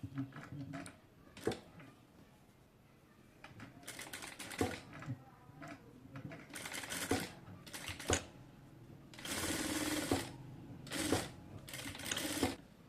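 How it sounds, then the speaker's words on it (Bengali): A sewing machine stitching the side seam of a salwar runs in short, quiet bursts of rapid clatter separated by pauses, close and alone. "আমি এইটুকু হচ্ছে সেলাই করে দেব"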